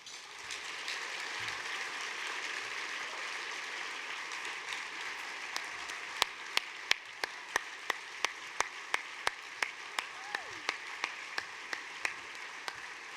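Steady, moderately loud applause from an audience welcoming Ben Liu at a 2015 Rare Champions of Hope event, continuous through the clip, with sharp, distinct individual claps rhythmically punctuating the second half.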